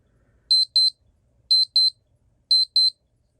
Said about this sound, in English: And we also got the alarm.